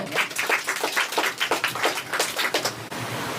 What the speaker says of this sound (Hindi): तो उनके लिए एक जोरदार तालियां बजा दीजिए आप लोग।